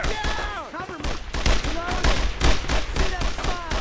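Rapid bursts of rifle and machine-gun fire from the World War II shooter game Brothers in Arms, loud and dense, crackling almost continuously with voices shouting among the shots.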